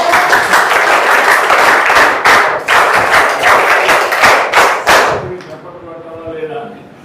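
Audience at a Telugu show claps in uneven bursts of thumping, close hand claps layered over lively talk, dying away after about five seconds as voices carry on.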